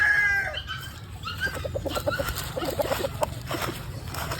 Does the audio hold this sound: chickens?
yes